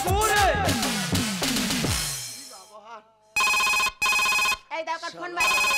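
A telephone ringtone sounds in a comic Gajon folk song skit, following musical and sung passages; loud repeated electronic ring bursts with short gaps, close and clear.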